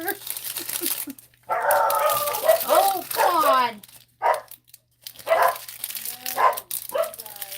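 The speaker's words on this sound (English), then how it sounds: "Oh, I'm sorry about the dogs" Dogs bark and whine near the microphone in repeated bursts, loud and busy, mixed with a person speaking briefly.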